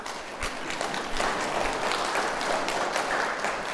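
Steady applause from a parish lecture audience in a church setting, an even wash of many hands clapping at moderate distance, sustained throughout with no voice on top.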